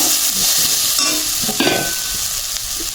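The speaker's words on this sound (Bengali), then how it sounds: "নারিকেলটা ভাজা হয়ে গেছে" Grated coconut fries and is stirred in a pan while making dudh puli pitha, giving a steady close sizzle with scraping stir strokes throughout and no talking.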